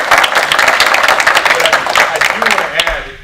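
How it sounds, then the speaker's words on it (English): An audience at a Rotary Club meeting applauding, with dense clapping from a crowd that fades toward the end, and a voice heard under it. "round of applause"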